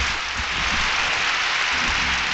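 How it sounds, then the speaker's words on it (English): A studio audience at a radio show breaks into steady, dense applause, a continuous wash of many hands clapping at once without a break. "There's some applause."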